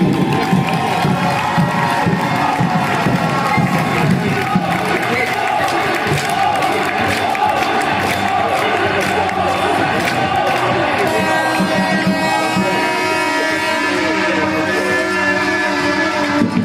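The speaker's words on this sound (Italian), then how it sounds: "un applauso per West Torri." A gym crowd at an under-13 girls' volleyball regional final applauds and cheers for the team, loud and continuous, with shouts and children's voices mixed into the roar.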